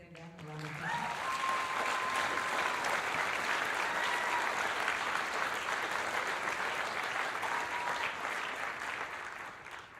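An audience at a winter school band concert breaks into applause for the student musicians, the clapping swelling in quickly after a brief voice, holding steady and full, then thinning slightly near the end.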